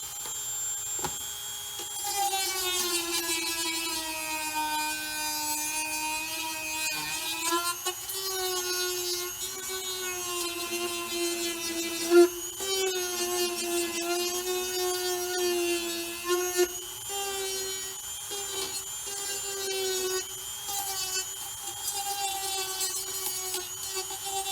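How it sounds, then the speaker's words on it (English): Dremel rotary tool fitted with a small sanding tip shaping and melting plastic, a steady high-pitched motor whine whose pitch dips and rises as the tip bites into the work, continuous and close with no talk. "The Dremel will melt the plastic fairly easily with a little sanding tip on the end."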